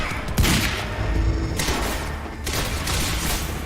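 Gunfire aimed at the player in Quantum Break bursts in loud, close volleys, with heavy thuds and sharp cracks recurring every second or so amid constant combat noise.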